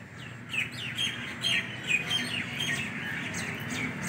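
Birds in trees give short, bright chirps and tweets at a moderate distance, repeating every half second or so over a low background hum.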